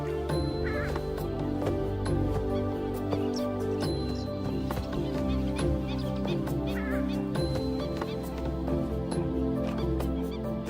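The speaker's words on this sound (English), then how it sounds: "This is the purple swamp hen, also called the sultana bird, famed for its very loud, explosive call." A purple swamp hen, also known as the sultana bird, gives loud, harsh calls in an Asian tropical rainforest, repeated over a dense steady backdrop of droning insects and other bird sounds.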